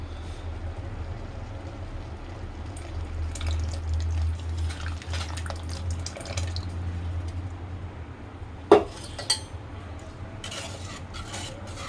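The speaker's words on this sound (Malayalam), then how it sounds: "ഇനി നമുക്ക് ഈ കുമ്പളങ്ങയിലോട്ട് അധികം പുളിയില്ലാത്ത കട്ട തൈര് ഒഴിച്ചു കൊടുക്കാം." Thick, mildly sour curd poured into cooked ash gourd in a pan, soft wet squishing and dripping with light stirring, close and quiet over a low hum, with a couple of sharper clinks near the end and no talking.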